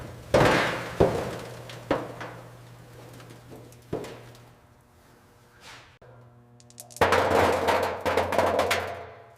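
Rusty interior of an old 1959 Cadillac Eldorado Biarritz fuel tank being mechanically cleaned, with rust breaking loose in sharp, loud knocks and rattling clatter at irregular intervals over a steady low hum, ending in a dense burst of rattling.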